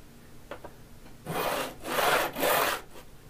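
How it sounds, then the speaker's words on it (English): A metal file rasps across the fret ends on a homemade cigar box guitar fretboard, beveling them, in three steady, close strokes after a couple of faint taps. "Continue to file away at the ends of the fret until the file itself is brought up close to the fretboard."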